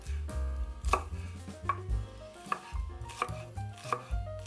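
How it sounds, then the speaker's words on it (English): A knife chops a shallot on a cutting board while the white sauce for a doner kebab is prepared, giving a steady run of crisp, close taps with no voices. "Chop a shallot."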